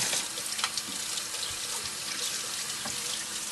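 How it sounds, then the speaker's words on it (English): Kitchen tap water runs steadily into a sink as hands are rinsed of biscuit dough scraps, a close, continuous hissing splash with small irregular spatters and no talking. "I'm going to rinse my hands"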